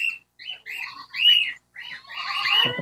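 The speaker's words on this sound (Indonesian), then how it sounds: "ini tuh burung pemakan biji-bijian" Seed-eating finches in an aviary give a run of squawking calls and chirps, fairly close, in short bursts with brief gaps, the calling growing denser toward the end.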